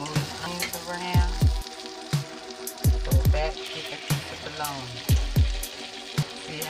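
Onions sizzle loudly in a pan at an outdoor food show while being flipped and stirred, with repeated scraping knocks of the utensil over a steady frying hiss and someone talking throughout.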